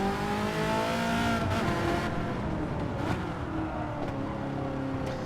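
A Ford GT's engine revs hard in the racing game Gran Turismo 7, its pitch climbing and dropping through gear shifts with a brief tire squeal, loud and unbroken with no talking.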